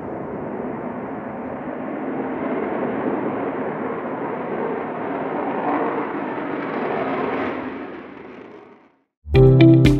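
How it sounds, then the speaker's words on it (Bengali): A military fighter jet roars steadily for several seconds as it lands on a highway, a broad loud engine rush heard from outdoors before cutting off abruptly. "এর অন্যতম হলো ঘাঁটির বাইরেও যুদ্ধবিমান ওড়ানো ও অবতরণ করা।"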